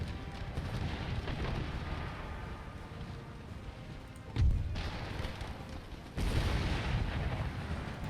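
Musket volleys and cannon fire in an Empire: Total War siege battle, a steady roaring din of distant shots with a sharp close bang midway and a louder surge near the end, without speech.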